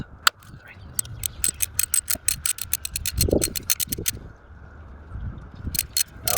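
A socket ratchet works on bolts of a 1998-2003 Jaguar XJ8 X308, producing close, sharp bursts of rapid clicking in quick strokes, with brief pauses and some handling noise between them.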